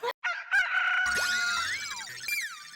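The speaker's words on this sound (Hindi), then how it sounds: "तुम्हें मुर्गी की आवाज आई अभी?" A rooster crows once indoors inside a house, a long strained cock-a-doodle-doo, close and loud, followed by a few trailing squawky notes.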